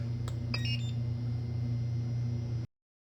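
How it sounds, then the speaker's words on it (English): A couple of quick electronic beeps from a Nova Orion control panel over a steady mechanical hum that cuts off abruptly. "You can turn off the little beeps on this."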